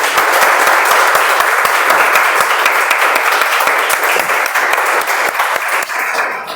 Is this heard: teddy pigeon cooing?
no